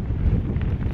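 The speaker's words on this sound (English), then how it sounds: "It's windy." Gusts of wind buffet a microphone on a low-tide coastline during a wild camping trip, a dense, close, rumbling roar that fills the whole short moment with no other sound.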